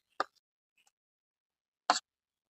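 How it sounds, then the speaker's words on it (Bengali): A thick papaya and paneer paste dropped onto a plate greased with mustard oil: two soft, brief plops separated by quiet, close and faint, with no voices. "এবারে আমি এই পনিরের পেঁপের এই পেস্টটা আমি এর মধ্যে ঢেলে দেবো।"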